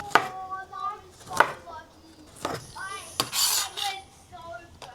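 Garlic gets crushed and chopped with a knife on a board outdoors at a homestead, sharp thuds and scraping cuts in an uneven rhythm, close and moderately loud, with a voice talking briefly between strikes.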